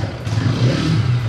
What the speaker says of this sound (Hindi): इसकी आवाज़ भी बहुत ही ज़्यादा बढ़िया है। ये स्टार्ट हुई